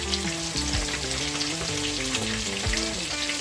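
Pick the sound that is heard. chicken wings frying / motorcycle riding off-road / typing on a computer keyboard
chicken wings frying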